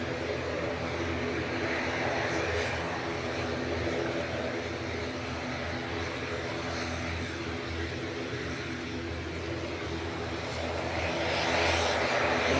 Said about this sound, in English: Aer Lingus Regional going next, ATR 72, GCMJM with flight 3619 to Belfast.